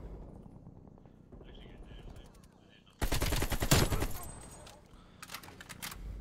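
Rapid AK-47 automatic fire in a Call of Duty match bursts in loud and dense after a quieter stretch, then trails off and returns in shorter bursts, with game ambience and faint voices around it.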